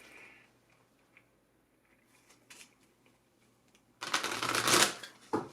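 A deck of oracle cards is shuffled close by: faint handling and soft riffs at first, then a loud, dense flurry of flapping card noise near the end.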